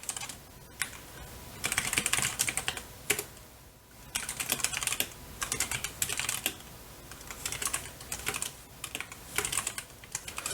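Computer keyboard typing while entering Bash shell commands, with irregular bursts of keystrokes and brief pauses between them, close and fairly quiet, with no talking.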